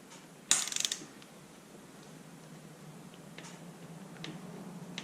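Torque wrench clicking as a motorcycle steering stem center bolt is tightened on a Husqvarna TE 300i: one sharp, close metallic click, then quiet ratcheting ticks scattered over the following seconds.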